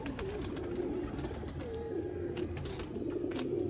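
Red-eyed A-class pigeons in the Sialkot border area coo continuously at close range, the soft throaty calls rising and falling over a steady background hum.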